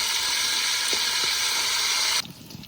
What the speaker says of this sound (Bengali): মাছের মাথাটা নাড়াচাড়া দিয়ে একটু করে ভেঙে দিই, তাহলে ভাজা ভালো হবে।